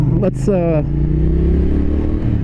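A Triumph Thruxton RS cafe racer motorcycle being ridden, its engine revving with a rising whine over a steady throaty rumble, loud and close, briefly under a rider's voice.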